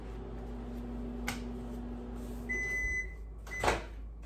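A kitchen microwave oven heating food in a steamer: a low steady hum runs throughout, with faint clicks and a short electronic beep tone near the end, quiet and close.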